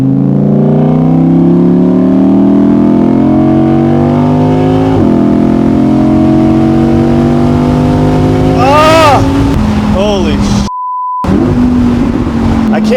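A supercar engine revs under light throttle, its rising and falling harmonic drone sustained and loud throughout, with a brief dropout near the end and people talking over it.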